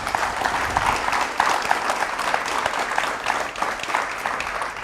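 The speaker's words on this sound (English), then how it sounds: "Come on, give them a round of applause." Steady applause from a crowd at a service dog graduation ceremony, dense and continuous clapping that holds at an even, fairly loud level throughout.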